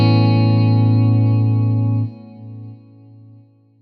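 A synth tone is shaped by the CorOS chorus modulation effect at a 0.5 Hz rate and 50% depth. A sustained, slowly wavering chord sounds alone and loud, then steps down and fades.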